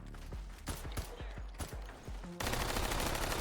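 A rapid string of sharp, close gunshots rings out in a fast-paced shooter game, followed by a sudden burst of loud, noisy game action.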